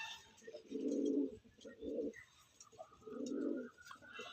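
Andhra pigeons coo close by in a few soft, throaty rolling phrases with short gaps between them, fairly quiet against a calm background.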